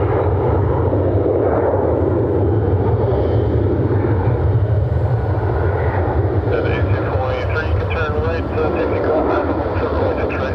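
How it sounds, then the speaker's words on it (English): A steady, loud, continuous jet engine roar from an airliner on the ground at Cleveland Hopkins airport, filling the whole stretch, with radio chatter and talk mixed in over it. "I got a United on their tail coming around the bend."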